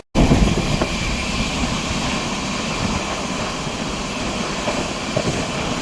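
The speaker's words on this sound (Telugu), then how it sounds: "అమృత్ భారత్ ట్రైన్లు చాలా తక్కువ నాయిస్ జనరేట్ చేస్తాయి." An Amrit Bharat train rolling along the rails on its first commercial run from Charlapalli to Thiruvananthapuram, a continuous even roar of wheels and carriages heard from on board, with faint clicks.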